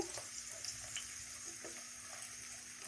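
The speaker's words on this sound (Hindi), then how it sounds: "सबसे पहले हम घी डालेंगे, प्याज डालेंगे। प्याज को हम हल्का ब्राउन करेंगे।" Onions fry in ghee for a chicken biryani, a steady soft sizzle with faint stirring scrapes running evenly throughout, fairly quiet and without talk.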